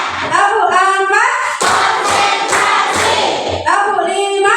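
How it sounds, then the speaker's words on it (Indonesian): Children play a concentration clapping game in a classroom lesson, sending out a short run of four sharp, evenly spaced group claps in a steady rhythm, framed by young voices chanting just before and after. "Tepuk konsentrasi."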